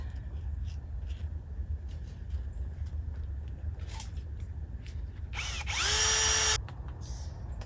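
A power drill driving screws into fence panels for a wolfdog enclosure in a forest gives one short, sharp whirring burst with a rising pitch. It stands out briefly over low outdoor background rumble.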